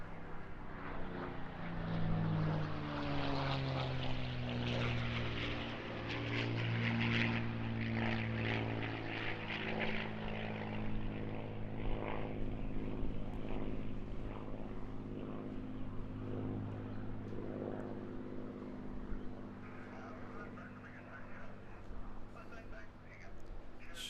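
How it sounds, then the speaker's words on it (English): A P-51D Mustang propeller fighter makes its final pass at the Eastbourne International Airshow, its engine drone rising and slowly fading as it passes at a distance, under a continuous commentator's voice. "So here now on his final pass, do give him a massive wave off, Alistair Steg Williams in the P-51D Mustang"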